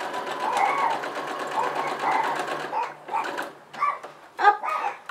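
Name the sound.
sewing machine stitching a fabric napkin holder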